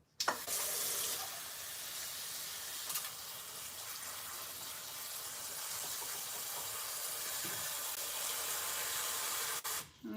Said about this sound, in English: You are just going to add some water to it.